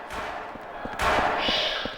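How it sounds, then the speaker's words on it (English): Several dull thumps and knocks from monkeys banging in Silent Hill 4 land irregularly over a muffled rushing background, with a louder swell of noise halfway through. "Those damn monkeys are making too much noise."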